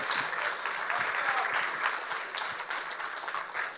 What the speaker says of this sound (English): I think you could give her a round of applause right about now.